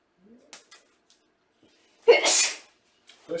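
A single sharp human sneeze bursts out near the middle, loud and close, between faint small sounds of people and a brief voice at the end.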